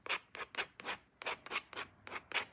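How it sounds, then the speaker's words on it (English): A small palette knife flicks and rubs across watercolor paper in a quick series of about ten dry, scratchy strokes, close and fairly soft, with no voices. "I just started playing with this little palette knife, which isn't really for watercolors per se, and started kind of flicking and rubbing"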